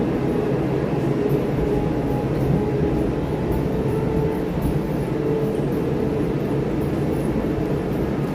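A Walt Disney World monorail train rolls along with a loud, continuous low rumble and whine that holds steady throughout, close by and without any break or talk.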